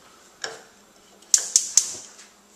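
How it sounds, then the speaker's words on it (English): A household gas oven's igniter clicks during a home inspection: one sharp tick, a pause, then three crisp clicks in quick succession, close by in a quiet room. "Now I'm going to test the oven, make sure everything's firing properly."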